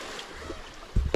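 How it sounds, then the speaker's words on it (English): Water in a creek in the Australian outback flows as a steady broadband rush, close to the microphone, with a couple of low thumps near the end of a very short stretch. "Beautiful creek."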